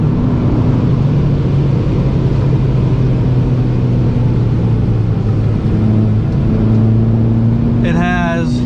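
Abarth 595 hatchback pulling hard in fourth gear through a corner, a loud steady engine drone with rising harmonics near the end, while a driver talks over it.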